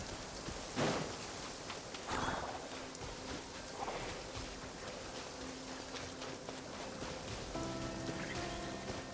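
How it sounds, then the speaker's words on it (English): Heavy rain in the Genshin Impact video game, a soft, steady patter of rain on surfaces with a few louder splashes and thumps standing out, faint and continuous throughout. "This heavy rain must be quite an inconvenience for you."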